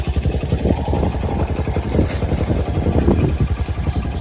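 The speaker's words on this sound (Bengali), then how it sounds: "ওর গাড়ির থেকে সাইলেন্সারে বেশি সাউন্ড হচ্ছে, মানে পুরো ফাটিয়ে দিয়েছে সাইলেন্সার" A motorcycle engine with a loud modified silencer burbles and pops nearby, a rough, pulsing low exhaust rumble that holds steady for several seconds, mixed with wind noise.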